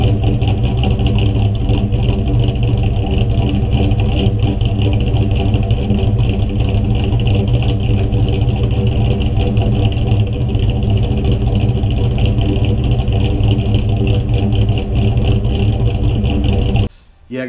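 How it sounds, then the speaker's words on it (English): A Ford Foxbody Mustang V8 with an E cam idles close by, a loud, steady, lumpy rumble holding for the whole stretch before cutting off abruptly at the end. "Let's just have a listen to that E Cam sound."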